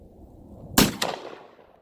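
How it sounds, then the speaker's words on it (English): A single sharp shot from a Thompson Contender single-shot rifle chambered in 45-70, a loud outdoor report followed by a quick echoing tail that fades over the next second. "we'll go ahead and fire one more shot"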